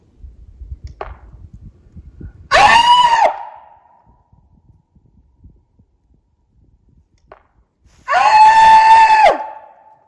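A man lets out two long, high-pitched howling screams imitating a Bigfoot call in the woods of Randolph County, West Virginia, separated by quiet pauses with faint rustling in between.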